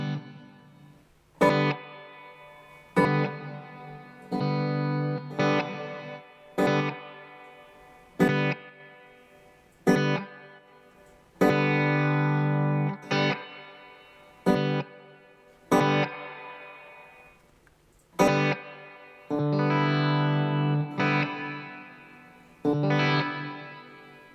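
An electric guitar played through a reverb effect with the wah pedal bypassed: repeated strummed chords ring out in a steady rhythm over about two dozen seconds, each decaying into a reverberant tail, loud and close with no voices.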